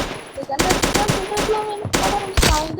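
Rapid automatic gunfire in a video game, bursts of shots crackling loudly and continuously with brief pauses, while players talk over the action.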